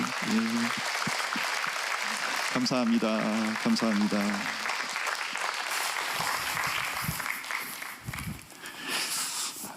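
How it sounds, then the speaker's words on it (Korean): Church congregation applause as missionaries come forward, sustained clapping throughout with someone speaking briefly over it near the start and middle, the clapping thinning and turning patchier toward the end. "앞으로 나오실 때 큰 박수 부탁드리겠습니다"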